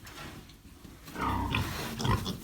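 A piglet grunts and squeals nearby during weighing, rising louder toward the end over a low, noisy background.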